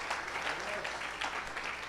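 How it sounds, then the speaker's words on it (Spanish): A church congregation bursts into brief, loud clapping during a Spanish-language sermon, with voices mixed into the applause. "Denle un aplauso al Señor."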